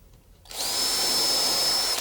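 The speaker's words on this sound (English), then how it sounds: "try to be cognizant that you want to keep the drill relatively level as you drill in" Close, loud power drill boring a pilot hole in a concrete countertop, starting abruptly after a quiet moment and holding a steady high whine to the end, no speech.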